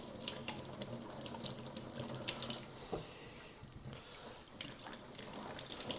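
Tap water runs steadily into a sink as pickling cucumbers are rinsed under it, a continuous splashing rush with small shifts where the stream hits the fruit and hands.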